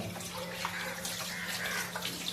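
Fish being rinsed under running water from a tap, a steady close splashing wash with small sloshes, quiet and continuous for a couple of seconds.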